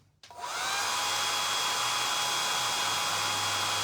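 A hair dryer dries paint on a jean jacket, switching on after a brief quiet moment and then blowing as a loud, steady whir with a constant motor hum that lasts to the end.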